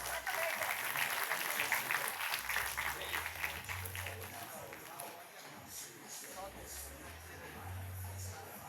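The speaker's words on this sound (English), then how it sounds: "Give him a big round of applause." A crowd applauds at an exam results celebration, clapping strongly at first and then fading to a softer patter, with some voices mixed in.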